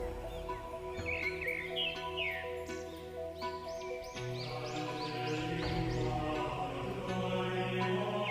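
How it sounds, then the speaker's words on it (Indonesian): Birds sing busily in the open air behind the Way of the Cross at the Gua Maria Kerep Ambarawa shrine, repeated chirps and whistles running steadily under sustained tonal sounds and a soft background hum. "terdengar suara burung yang riuh bernyanyi."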